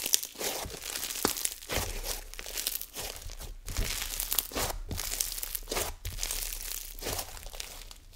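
Snow fizz slime packed with crunchy bits is squished and pressed, giving continuous close crackling and sizzly fizzing with repeated squeezes and no talking.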